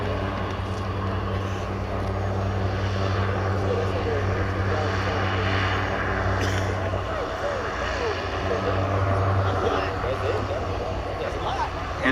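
An airship flies at EAA AirVenture Oshkosh, its engine giving a steady, loud droning hum that holds for the whole stretch under wind noise and outdoor crowd ambience.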